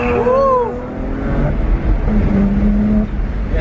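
A low-mileage BMW 1M engine rumbles steadily at a low pitch, close and fairly loud, while a voice briefly sounds over it early on.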